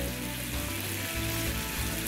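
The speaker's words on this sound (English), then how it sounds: "we have our sugar syrup that is boiling away" Sugar syrup boiling in a pot at around 235 degrees gives a steady, dense bubbling hiss and crackle with a low rumble underneath, continuous and close.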